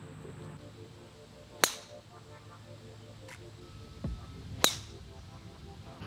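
A golf club striking a ball off the tee on a course: a sharp, loud crack followed by quiet ambience, with a second similar hit a few seconds later.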